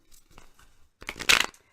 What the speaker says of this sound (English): let me just give it a little shuffle